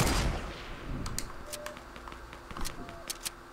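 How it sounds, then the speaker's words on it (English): Scattered gunshots in the video game Fortnite, a louder burst at the start followed by several sharp, spaced cracks at a moderate distance. "I keep missing my shots"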